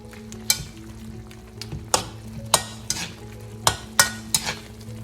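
Beef steak stir-fried with onions and fish sauce over high heat, sizzling loudly and steadily, broken by sharp clanks of a utensil against the pan every second or so, with no speech.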